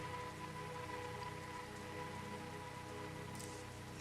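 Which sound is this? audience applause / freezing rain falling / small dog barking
freezing rain falling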